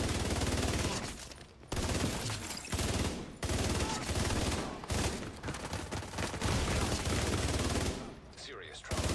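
Rapid, sustained automatic gunfire from the video game The Division 2, loud and dense in long bursts separated by brief pauses, with faint voices underneath.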